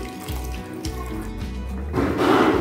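Water pours into a cornflour slurry for a roadside-style mushroom masala gravy: a short, splashy gush near the end after quieter kitchen sounds, with no talking.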